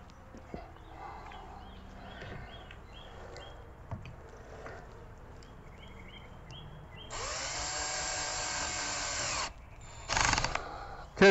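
Power drill driving screws into a wooden Layens beehive, with soft taps and handling at first, then a steady sustained whir from the drill followed by a second short burst.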